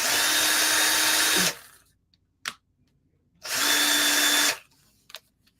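A power drill whirs in two bursts of about a second and a half each, separated by silence and a couple of short clicks.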